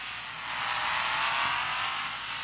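A modified off-road Jeep rock crawler revs in the Offroad Outlaws driving game, its engine a loud, steady roar that swells slightly and holds for a couple of seconds with no one talking.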